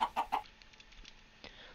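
A chicken in Minecraft clucks three quick times up close, then the game's ambient quiet follows with a faint extra cluck near the end.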